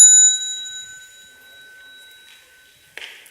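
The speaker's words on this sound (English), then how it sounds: "with the next sound of the bell, we can turn towards the Sangha" A mindfulness bell at a meditation retreat is struck once and rings out clearly, its pure tones fading slowly over a couple of seconds before a brief rustle at the end.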